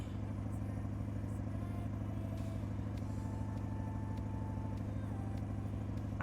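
Steady low diesel drone of a Caterpillar truck engine in a truck-driving video game, a continuous rumbling hum holding even throughout with no talk over it.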